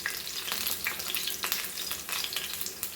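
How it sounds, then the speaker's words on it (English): Bok choy and other leafy greens fry in a tablespoon of oil in a tawa over low flame, a dense close crackling sizzle with frequent sharp spatters and light stirring, no voices. "because we are frying our Bok Choy and our other leaves"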